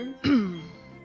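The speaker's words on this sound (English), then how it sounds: "it's just me clearing my throat because I was sick recently" A single short, rough throat clearing from someone recently sick, close and fairly loud, followed by a brief fading tail.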